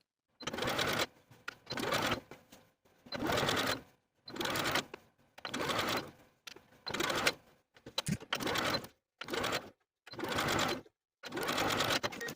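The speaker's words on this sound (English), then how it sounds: "sew the facing to its seam allowance that's underneath, edge stitching close to the original seam line" A domestic sewing machine edge-stitches a garment facing to its seam allowance close to the seam line on a 1960s-style tie collar top, running in about nine loud bursts of rapid stitching separated by short pauses.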